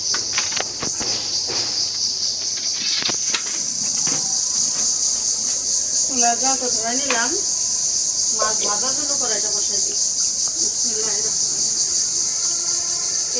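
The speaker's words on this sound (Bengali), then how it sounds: "এই যে ঝিঝি পোকার যে শব্দ, মানে ডাক, সকাল থেকে শুরু হয় একদম সন্ধ্যা রাত্রি, সারাক্ষণ" Crickets chirp in a constant high-pitched drone from start to finish while a person talks over it, with a few clatters early on.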